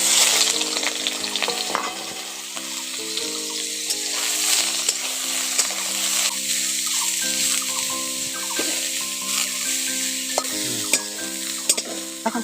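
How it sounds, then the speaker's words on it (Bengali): Soybean chunks fry in hot oil, a bright, steady sizzle with stirring scrapes and clinks, heard beneath soft background music. "প্রথমে আমি সোয়াবিনগুলো ভেজে নিচ্ছি।"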